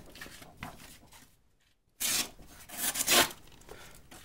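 A Victorinox Huntsman pocket knife saws through a sheet of paper in a few short, rasping strokes, close and dry, separated by a brief silent pause.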